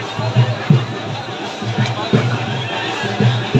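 Large crowd of about 1,200 students at a school science project fair in Madhubani district, a steady hubbub of overlapping chatter and babble with a few louder voices rising above it.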